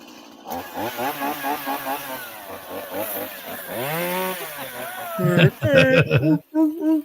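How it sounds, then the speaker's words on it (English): A tiny chainsaw runs in a Florida yard cleanup, its small two-stroke engine buzzing in short revving bursts, then holding a longer steady whine before sputtering and cutting in and out near the end. "Such a tiny little chainsaw."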